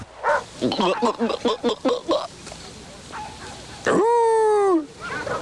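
A poodle in a TV commercial gives a quick run of yappy barks over speech, followed by a long, drawn-out whine or howl, then more talking.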